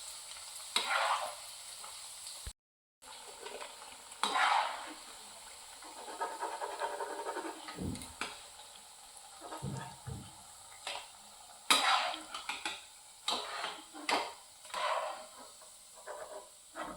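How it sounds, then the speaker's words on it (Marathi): Coriander vadis frying in oil over medium heat, with a soft sizzle and hiss rising and falling alongside intermittent stirring and scraping clatter, quiet and close with gaps of near silence. "जरा मध्यम गॅसवरच तळायचे."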